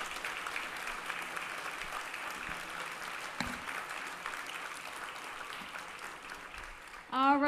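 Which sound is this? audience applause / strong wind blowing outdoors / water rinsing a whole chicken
audience applause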